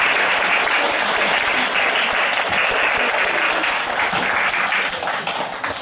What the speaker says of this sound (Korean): 옆에 사람한테 일주일 동안 고난주간에 힘내라고 박수 한번 쳐주세요.